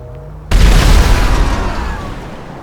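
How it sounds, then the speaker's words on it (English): A single sudden explosion goes off in Grand Theft Auto Online during a Los Santos Drug Wars mission. The loud, heavy boom hits after a short quiet moment and its rumble fades over the next two seconds. "Make it go boom."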